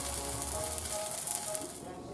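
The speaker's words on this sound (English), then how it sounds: "We're just frying them up like so." Latke patties pan-frying in oil give a steady, close broadband sizzle with crackling pops throughout, under a low background hum.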